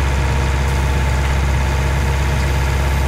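Tractor engine in Farming Simulator 20 running steadily at a low idle-like drone, a continuous close rumble with no talk over it.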